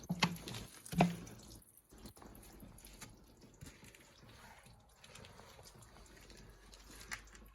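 Water splashes and drips off a rinsed car headlight, with a couple of louder drops early on, then a soft continuous trickle of running water.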